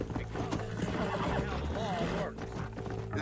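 A horse whinnies with a rising, wavering call over busy Red Dead Redemption game music, hooves clopping steadily underneath and a voice speaking briefly.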